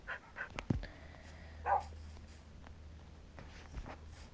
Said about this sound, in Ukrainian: Чудово, у мене два пса.